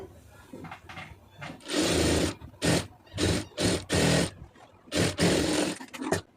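A sewing machine runs in several quick bursts while stitching a puff sleeve, each run a rapid mechanical whir separated by short pauses, close and clear with no talk.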